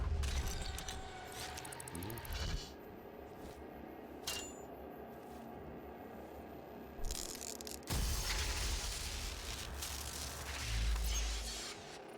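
An elevator mechanism in the video game Doom (2016): grinding, clanking machinery with sharp metallic hits and bursts, then a louder sustained mechanical roar after about eight seconds.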